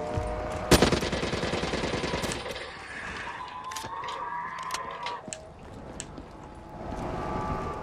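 Gunfire rips through zombies in Black Ops 3 Zombies, an opening burst of rapid automatic shots, loud and close, followed by scattered single shots and game effects that thin out over the remaining seconds.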